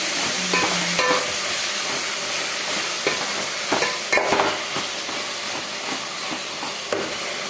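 Boiled drumstick leaves being stirred and fried in a pan, with a steady sizzle broken by repeated scraping strokes of the spatula, close and fairly loud.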